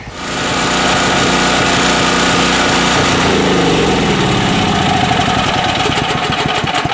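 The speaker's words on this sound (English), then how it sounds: "Generator works pretty darn good, but man, does it put out the heat. Holy, that's sitting here running." A portable generator running in a workshop, a loud, steady small-engine drone starting up and holding constant with a faint rhythmic knock, close to the listener and with no talk.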